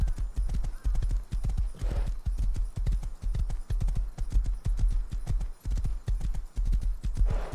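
Rapid, steady clip-clop of horse hooves in a video game, close and continuous, with a brief whinny partway through.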